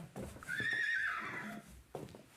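A horse kept at a refinery neighs once, a loud, clear whinny that rises and then trails off over about a second, with faint shuffling around it.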